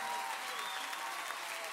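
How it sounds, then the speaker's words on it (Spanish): A concert crowd at a live show applauds loudly, a dense, continuous wash of clapping heard briefly and without a break. "Los aplausos bien fuerte."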